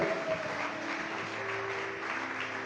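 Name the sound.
church congregation applauding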